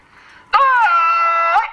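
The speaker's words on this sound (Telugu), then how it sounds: "ఈ మైకు చాలా బాగా పనిచేస్తుంది ఇది పెద్దగా అరుస్తుంది" A bird-scaring loudspeaker device for driving off birds and wild boars in a farm field lets out one loud, sustained electronic shriek lasting about a second, rising abruptly after a faint start and cutting off sharply.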